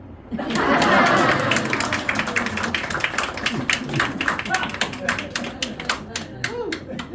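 A theater audience at a magic show breaks into sustained clapping, dense at first and then thinning into scattered claps, with voices mixed in.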